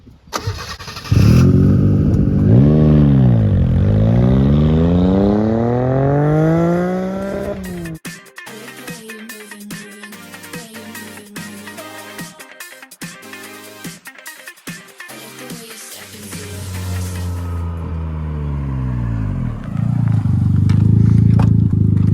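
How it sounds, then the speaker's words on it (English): Modified 1995 Suzuki Cappuccino kei car engine, revving loud and close with rising and falling sweeps, then a choppy lumpy idle with rapid pops before climbing to a steady high rev again. "This is my 1995 Suzuki Cappuccino."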